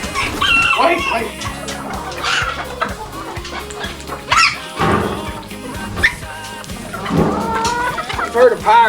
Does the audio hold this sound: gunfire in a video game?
no